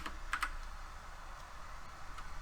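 Short bursts of typing on a computer keyboard, soft and close, with a few quick clustered keystrokes and then sparse taps over quiet room noise.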